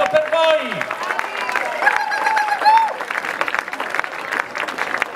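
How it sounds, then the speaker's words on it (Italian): An audience at a live band concert applauds steadily for several seconds. The dense clapping runs throughout and sits under a voice speaking over a microphone. "più applauso per voi!"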